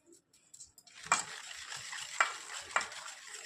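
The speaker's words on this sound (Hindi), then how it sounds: "इसे अब फिर थोड़ा फेंटना है जब तक कि ये ऐसी कंसिस्टेंसी का ना बन जाए" Cake batter is whisked in a bowl with soft, quick stirring strokes, punctuated by three brighter taps of the whisk against the bowl's side, quiet and close with no talking.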